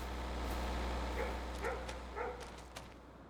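A dog barks a few times at a moderate distance, short yips spaced across a second or so, over a steady low engine-like hum.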